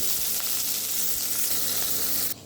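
Chopped onion and green chillies sizzling loudly in hot oil, a dense steady crackle close up that cuts off abruptly near the end, no one talking.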